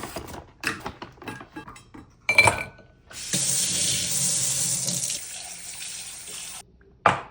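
Hot water streams steadily from a tap into a bowl of dates for a few seconds, preceded by clinks and handling noises of kitchenware.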